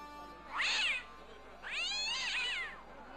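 An angry, bad-tempered cat in the adventure game Broken Sword gives two drawn-out meows, the second longer and wavering like a caterwaul, clear and close against a quiet background.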